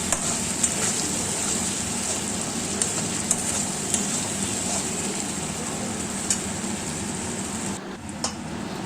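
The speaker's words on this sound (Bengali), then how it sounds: "মশলার পেস্ট দিয়ে ভালো করে কষিয়ে নেব।" Spice paste with turmeric frying in oil for a Bengali mutton curry, a loud, steady close sizzle with occasional sharp spatters and pops throughout, no voices.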